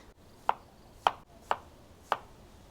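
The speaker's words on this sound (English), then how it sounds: "So I'm done cutting up my watermelon into small cubes." Knife cutting watermelon into small cubes on a board, four crisp evenly spaced chops in a quiet room.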